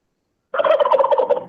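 Cartoon sound effect of a turkey gobbling: one loud, rapid, rattling gobble burst that starts abruptly after a short silence and runs to the end, with no talk.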